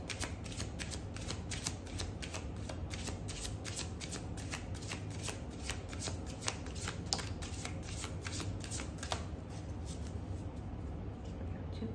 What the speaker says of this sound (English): We'll get a card from the Archangel Metatron deck from Amanda Ellis